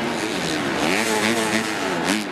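A 250-class supercross motorcycle in a Salt Lake City race screams close by as the rider works the throttle, its engine pitch rising and falling in repeated loud sweeps with a brief high burst near the end.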